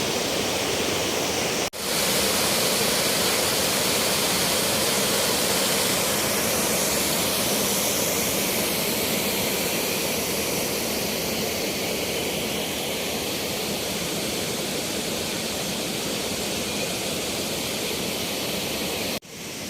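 Cold spring water rushes and flows in a constant broadband wash, loud and close, continuing unbroken for the whole stretch with no voices.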